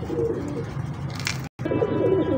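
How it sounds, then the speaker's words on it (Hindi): A young dove-feathered pigeon coos close by in low, throaty, rolling phrases that repeat steadily, with a brief cut partway through and no voices. "डव वाला कबूतर है माशाल्लाह"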